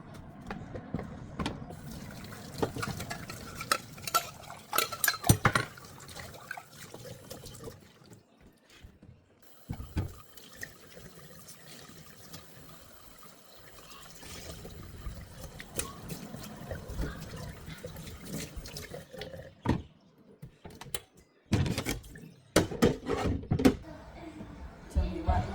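Water from a kitchen tap runs in bursts at the sink during washing, mixed with clattering dishes, cupboard knocks and a voice talking now and then.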